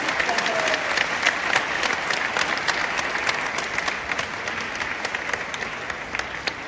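A crowd at a Jain temple ceremony for installing kalash urns claps continuously, a loud, dense, steady patter of many hands with no break.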